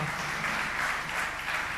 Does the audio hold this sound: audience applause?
yes